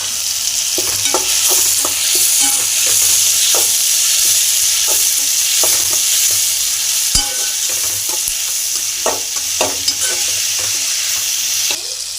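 Sizzling oil in a pan with repeated scraping and stirring clicks from a utensil as salt is mixed in for a country chicken dish, steady and close throughout.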